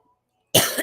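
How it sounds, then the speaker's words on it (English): A single sharp cough bursts out after near silence, loud and close, with a short second push at the end. "I'm sorry, I'm trying to get over my cough"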